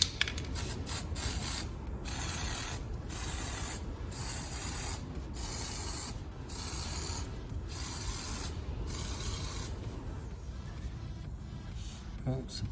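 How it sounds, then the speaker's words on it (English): An aerosol can of crack-test developer hisses in a series of short spray bursts onto a 318 LA engine head, separated by brief pauses, close up. "we'll spray some developer on and have a look"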